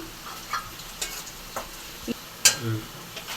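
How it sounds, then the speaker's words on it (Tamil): Small shallots sautéing in a pan for a goat intestine curry (kodal kulambu), with a faint steady sizzle under a few scattered stirring scrapes and clinks of a spoon against the pan, no talking. "ஓரளவுக்கு ப்ரௌன் கலர் நல்லா வதக்கிட்டோம்."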